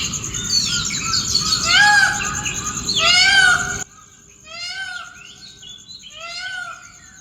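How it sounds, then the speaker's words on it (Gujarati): Sparrows chirping in a tree at dawn, bright repeated tweets in quick bursts, loud and close at first, then a little quieter but still clear. "વાહ ચકલી બોલ તું તારો."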